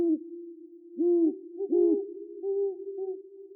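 An owl hoots at night, giving a series of deep, resonant calls at irregular intervals over a steady low drone, clear and fairly close against an otherwise quiet background.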